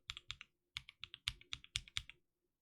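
Lubed stock cream mechanical keyboard switches being typed on, with a fast run of crisp, close keystrokes in uneven bursts and a brief pause near the middle; no voices.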